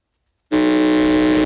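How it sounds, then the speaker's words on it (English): At a quiz contest buzzer test, a school's quiz buzzer cuts in after brief silence with one loud, steady, harsh electronic blare held for about a second, with no one talking. "Let's hear the sound of the buzzer from Grace Holy Child Academy."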